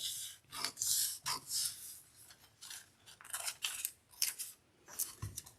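Quick, crisp scissor snips trim paper in a series of short bursts, close by, with brief pauses between cuts.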